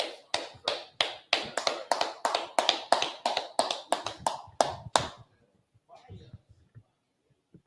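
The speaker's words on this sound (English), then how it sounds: "Clap it up." A group claps in rhythm at a brotherhood class gathering, about fourteen sharp, evenly spaced claps in unison, close and loud, that stop abruptly, followed by faint talking.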